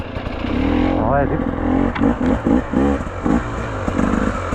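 An enduro motorcycle on a muddy, slippery trail in the Ludogorie countryside revs in short throttle bursts, close and loud, with someone talking over the engine.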